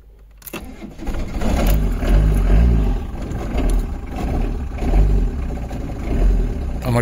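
Truck engine cranking and catching after a brief quiet start, then loud uneven revving surges with rumbling low end, close by and alone.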